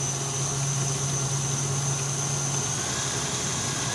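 A KitchenAid or Kenwood stand mixer runs at high speed, a steady, even motor hum with a constant whine that holds unchanged throughout, fairly close and alone.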